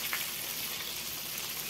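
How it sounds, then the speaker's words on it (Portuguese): Fish frying in a pan with oil gives a continuous, dense sizzle, steady and close, with no voices over it. "Eu tô fritando o peixe ali."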